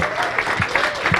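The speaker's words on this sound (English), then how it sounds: "So let's give Tanya and Gabe a nice warm round of applause." Warm applause from a seminar audience, a dense, steady patter of many hands filling the room with a few brief voices mixed in.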